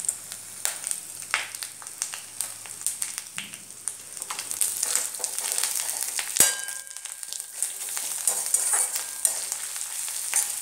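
Masala with coriander powder and Kashmiri red chili powder fries in a pan with a crackling sizzle and repeated stirring scrapes, plus one sharp metallic clang midway; no speech.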